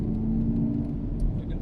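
Chevrolet Camaro accelerating hard out of a corner on a race course, a steady loud engine drone with a strong low rumble held throughout the short stretch.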